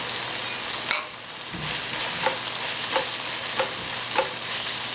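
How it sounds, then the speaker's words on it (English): Spinach fries in a pan with a steady close sizzle, and soft stirring scrapes come through at intervals. "as our spinach is frying up, I'm going to go ahead and add my dill weed in there"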